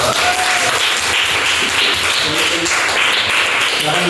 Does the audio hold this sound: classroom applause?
yes